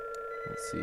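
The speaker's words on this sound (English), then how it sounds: "Sorry about the phone. It's just ringing." A telephone rings with a steady electronic tone that runs unbroken under a man's brief speech and some clicking.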